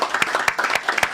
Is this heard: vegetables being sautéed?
no